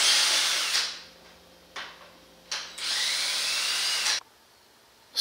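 A power tool whirs in several bursts while removing screws from the fan cover of a 32cc gas engine on a race truck, with loud sustained runs separated by brief pauses, close up and without talk.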